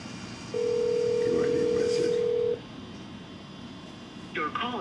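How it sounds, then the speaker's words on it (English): A telephone dial tone, steady and fairly loud, sounds for about two seconds and then stops, with faint background noise and a brief burst of a voice near the end. "Let's try and call him again"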